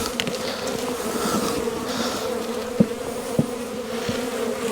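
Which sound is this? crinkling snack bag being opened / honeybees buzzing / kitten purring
honeybees buzzing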